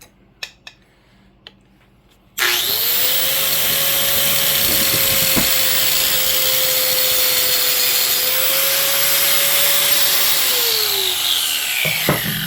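A power tool cuts a metal Allen key, starting abruptly after a few light knocks and running loud and steady as a high-pitched whining grind for about ten seconds before winding down.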